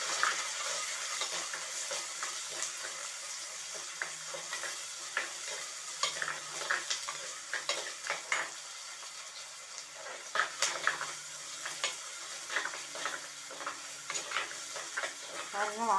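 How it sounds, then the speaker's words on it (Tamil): Onions sizzle in hot oil with fenugreek and mustard seeds for a fish curry, a steady close crackle with frequent scraping stirs and clinks of a spoon against the pan. "வெந்தயம் செவந்து வந்ததும் ஆனியன் போட்டு நம்ம வதக்கணும் நல்லா"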